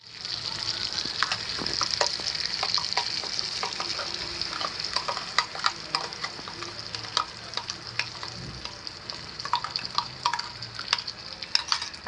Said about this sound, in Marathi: रेडी आहे आता आपण फोडणीला टाकू